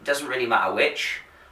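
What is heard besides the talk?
No everyday noises stand out.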